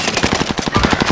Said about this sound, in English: I got shot from another dude